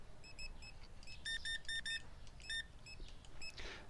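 Self-checkout scanners in the Supermarket Simulator video game give short, high electronic beeps, some single and some in quick clusters, fairly faint over a low background hum.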